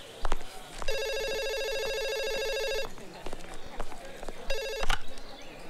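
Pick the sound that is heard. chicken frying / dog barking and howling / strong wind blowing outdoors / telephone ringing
telephone ringing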